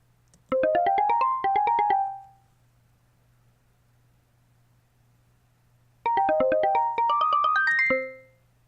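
Two short bursts of bright, bell-like Fruity DX10 harmonics preset tones run up and down in quick melodic phrases, separated by a pause of near silence over a faint hum.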